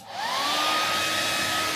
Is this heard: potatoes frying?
no